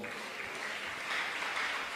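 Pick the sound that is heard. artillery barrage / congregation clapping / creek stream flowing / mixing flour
congregation clapping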